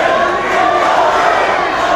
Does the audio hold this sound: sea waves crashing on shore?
no